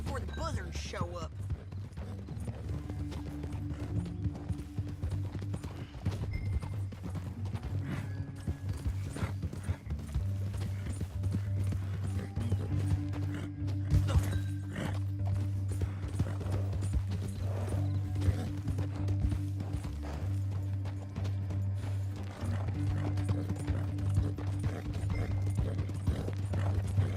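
Horse hooves clip-clop steadily under a low engine-like drone and scattered game sounds in Red Dead Redemption 2, with an occasional whinny and faint voices, continuing at an even pace throughout.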